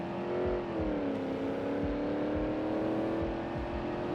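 A car in BeamNG Drive drives along with a steady engine drone that dips slightly in pitch, loud and continuous, with low thumps beneath; no clear crash impact stands out.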